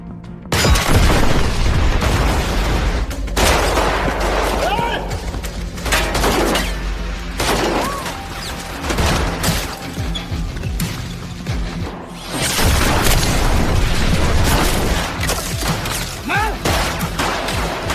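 A car explosion and gunfire in a fierce action battle scene: repeated heavy booms and crackling bursts of shots, loud and close, with whooshes and crashing debris over about eighteen seconds.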